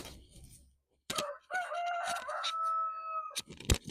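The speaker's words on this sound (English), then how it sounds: "Chicken." A rooster crows nearby on a homestead, a long drawn-out cock-a-doodle-doo with a few clucks and clicks around it; no talking.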